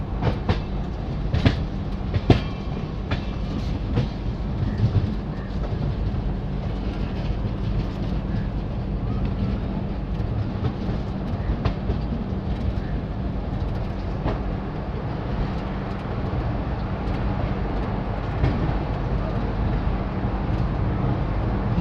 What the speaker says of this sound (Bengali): গাড়ি ধীরে ধীরে প্রয়াগরাজ চিউকি জাংশন এন্টার করছে